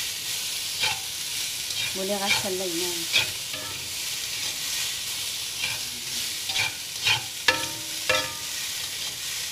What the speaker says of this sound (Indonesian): Selalu biasa orang rebuskan, tapi ni kita goreng